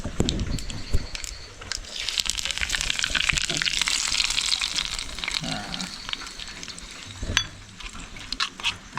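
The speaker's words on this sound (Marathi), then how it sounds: "राय तडतडले आता कडीपत्ता घालूया आणि फोडणी देऊया" Mustard seeds crackle in hot oil on a wood-fired stove for coconut chutney tempering, sizzling steadily with dense popping, close up, plus a few sharp clinks of a pan or spoon; no talking.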